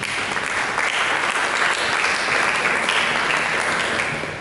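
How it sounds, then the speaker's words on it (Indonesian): A church congregation applauds in a sustained, even wash of clapping that stays loud and unbroken from start to finish, with no voices standing out above it. "Berikan tepuk tangan."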